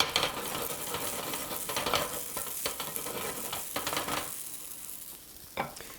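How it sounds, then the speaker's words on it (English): Pieces of bread fry in a pan for risotto while a spoon keeps stirring them. The crackling sizzle is punctuated by repeated scraping strokes and briefly quiets near the end before one last scrape. Nobody speaks. "So just always mixing it so that it isn't the same pieces of bread that are sticking to the bottom of the pan"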